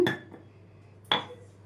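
Coarse rock salt is tipped into a steel mixer jar while making a lentil and tomato chutney, giving two brief gritty clinks about a second apart, faint and alone in a quiet kitchen.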